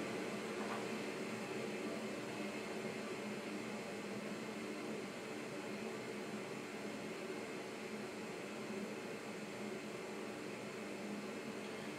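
A Jetboil ZIP camping stove burning steadily under a lidded pot of water, giving off a constant close roar that stays even and unbroken throughout, with no one talking.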